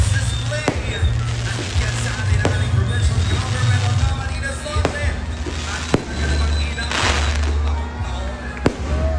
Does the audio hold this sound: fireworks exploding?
yes